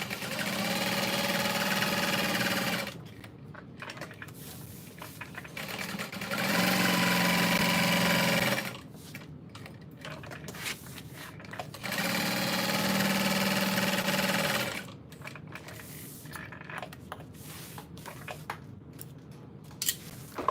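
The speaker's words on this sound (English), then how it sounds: "I'm going to backstitch, and then I'm going to do just a little stitch across the center and then back down." A sewing machine backstitches a tote bag, running in three loud, steady bursts of a few seconds each, separated by quiet pauses filled with faint handling noises.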